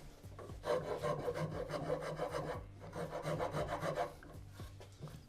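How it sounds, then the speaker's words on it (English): A rasp shapes the shoulder contour of a wooden guitar neck in close, rhythmic rough strokes. Two bursts of filing are split by a short pause, and no voice is heard. "still trying to get the shoulder contoured"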